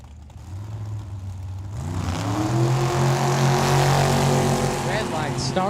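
Jeremy Jacobs' freshly painted Plymouth Savoy drag car making a test pass at Tucson Dragway, its engine building from a low idle rumble into a loud, rising roar that holds strong to the end, with a track announcer talking over it.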